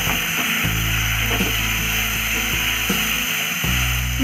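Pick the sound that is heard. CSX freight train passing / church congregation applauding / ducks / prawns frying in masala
prawns frying in masala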